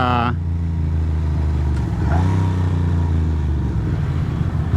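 A motorcycle engine drones loudly nearby, its pitch shifting as it passes, over steady wind and road noise.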